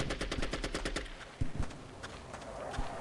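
Rapid burst of automatic gunfire from Counter-Strike: Condition Zero, a dense string of loud shots for about a second, then scattered single shots and thuds under game ambience.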